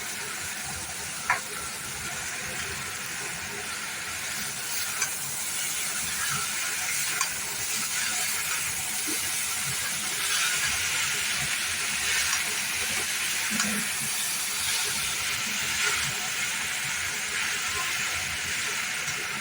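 Chow mein noodles stir-frying with already fried vegetables in a home kitchen, a steady loud sizzle and hiss with occasional small clinks of utensils throughout.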